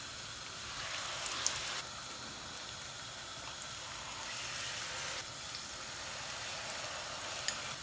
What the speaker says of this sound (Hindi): डिप करते जाएंगे स्नैक्स को और फ्राई करते जाएंगे।